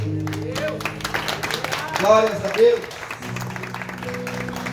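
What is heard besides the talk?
congregation applauding in church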